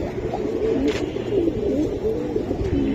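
Silver Giribaj racing pigeons give a run of soft, throaty coos in quick succession, close by over a low background rumble, with no voices.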